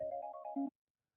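Cell phone ringtone from an incoming call, a short, clean electronic melody of a few rising tones lasting under a second before cutting off to silence.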